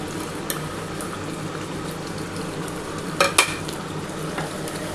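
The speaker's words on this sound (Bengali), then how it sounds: "ধনে পাতাটা দিয়ে খুব ভালোভাবে কিন্তু কষাতে হবে" Chicken being stir-fried kosha-style with coriander leaves in a pan, a steady sizzling bubble with a couple of sharper scraping stirs near the end, no talking.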